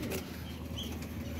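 Pigeons flutter and flap their wings inside their loft, a busy, close rustle of feathers over a low background, with faint cooing here and there.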